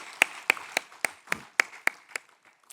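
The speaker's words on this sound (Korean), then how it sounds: "우리 하나님 아버지께 영광의 박수를 올려드립니다" Church congregation at a Wednesday worship service clapping in unison, nine evenly spaced sharp claps in a steady rhythm, moderately loud in a reverberant room, with no talking.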